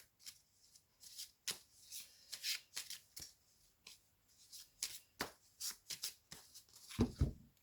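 An oracle card deck is shuffled by hand at close range, a steady series of crisp riffling bursts with short pauses between them, ending in a sharper tap as the cards are squared.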